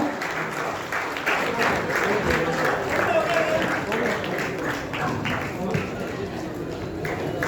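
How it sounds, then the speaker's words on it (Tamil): A large crowd applauds steadily and loudly the whole time, dense clapping mixed with voices. "ஒரு பெரிய கைத்தட்டல் அவருக்காக கொடுத்துடலாம்"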